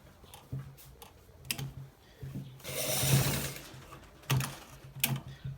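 A sewing machine stitches a designer shirt in short bursts of rapid mechanical clatter, close and moderately quiet, with a longer continuous run in the middle.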